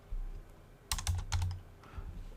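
A quick burst of keystrokes on a computer keyboard, a rapid cluster of clicks and taps close by, then a few lighter strokes before it settles into quiet room tone.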